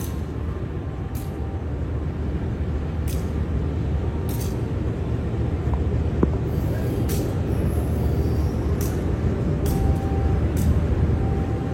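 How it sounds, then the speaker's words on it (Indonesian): A locomotive pulls out of the depot at an Indonesian railway station, a steady close rumble of engine and rolling stock running throughout with faint metallic squeals and clicks on top, and no talk. "ini ada satu lokomotif keluar depo"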